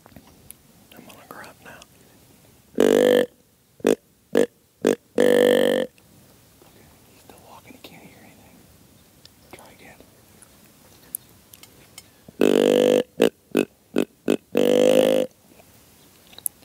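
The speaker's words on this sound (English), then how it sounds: "Burp." A person burps twice in loud, drawn-out bursts spaced several seconds apart, with short sharp sounds and soft whispering around them.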